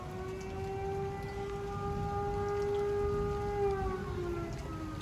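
A fire whistle sounds during a severe November storm in western Pennsylvania, a long, wavering, far-off wail that holds steady and then slowly sags in pitch, over a soft hiss of wind and rain.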